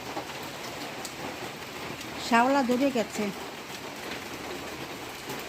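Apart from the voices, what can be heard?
heavy rain falling on a rooftop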